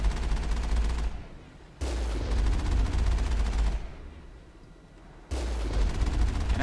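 Heavy bursts of gunfire aimed at an enemy in Mass Effect, loud sustained volleys of shots in three long stretches separated by brief quieter gaps.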